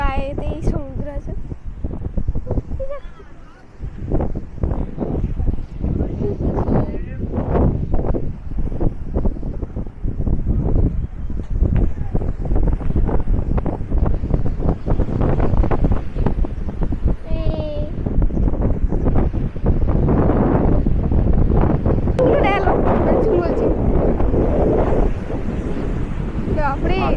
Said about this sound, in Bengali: আপনি প্রচুর হাওয়া দিচ্ছে, ঠান্ডা হাওয়া